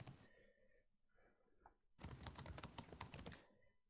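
Typing on a computer keyboard during an online call: a quiet lull of faint sounds, then a burst of rapid, close keystroke clatter for about a second and a half before it stops.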